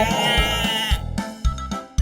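A bleating goat gives a drawn-out, wavering cry, then short broken calls, close and clear with thumping beats between them.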